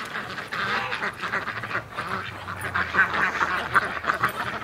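Ducks quack continuously in a yard, a busy flock calling close by with overlapping honking bursts throughout.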